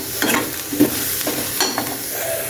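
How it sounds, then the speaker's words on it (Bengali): Onions fry in a pan as the first step of a dried-fish bhorta, giving a continuous close crackling sizzle with occasional soft pops and stirring scrapes throughout. "পেঁয়াজটা ভালোভাবে একটু ভেজে নেব, কারণ তাহলে ভর্তাটা সুন্দর হয়"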